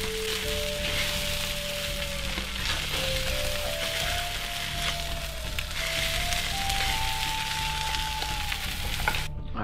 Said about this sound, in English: here we have the fried beef brain